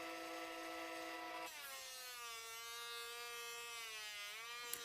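Inexpensive Craftsman 6-inch benchtop jointer running steady, with a higher-pitched cutting whine as a wide hardwood board passes over the knives after the first second or so; the pass sounds continuous and alone, with no talk.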